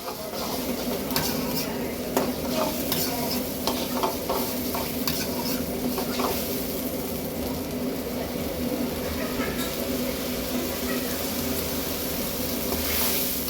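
Orange juice sauce bubbling and sizzling in a pan, a continuous simmering hiss with occasional stirring clinks, fairly close.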